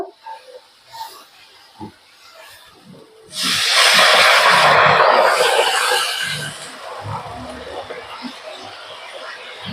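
Water hits hot fried masala in a pan and erupts into a loud, sudden sizzle that hisses strongly for a few seconds and then settles into a softer bubbling, with quiet clatter before the water goes in.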